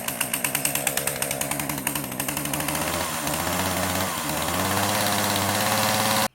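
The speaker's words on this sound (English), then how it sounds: "I haven't used this chainsaw much" A farm chainsaw's engine sputters in uneven pulses, then revs up into a steady, loud, buzzing run for several seconds before cutting off abruptly, close and with no talk.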